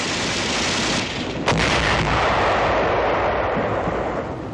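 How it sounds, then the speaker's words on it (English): Heavy gunfire and shelling roar around advancing tanks in a dense, continuous battle din, with a sharper blast early on over sustained loud noise. "our tanks move forward under heavy fire"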